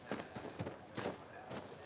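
Horse stamping its hooves makes several irregular thuds and clops at close range, with breathy noise between them.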